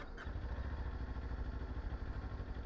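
A Kawasaki Ninja 400 KRT sport motorcycle engine rumbles low and steady nearby, a continuous throbbing idle with a faint mechanical clatter.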